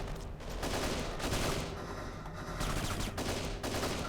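Sustained gunfire in the video game Kane & Lynch 2: Dog Days, a dense, continuous rattle of rapid shots and bursts filling the whole stretch at steady loudness with no talk.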